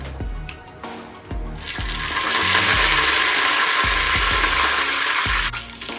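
Curry leaves splutter and crackle in hot oil after mustard seeds and cumin, part of a Tamil mor kuzhambu tempering; a loud, dense sizzle swells in after a short quieter start and holds steady, with no talk.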